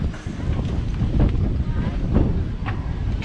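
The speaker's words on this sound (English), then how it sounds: "that's how windy it's getting." Strong wind blows on an open, unsheltered beach at Playa de Palma, Mallorca, buffeting the microphone with a loud, steady low roar and gusty rumbles.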